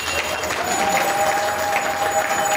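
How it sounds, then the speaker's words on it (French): Steady applause from an audience at a political gathering in Kwilu, honouring Maître Mitéo, with dense continuous clapping and a faint tonal hum running beneath it. "Vous pouvez applaudir Maître Mitéo, s'il vous plaît."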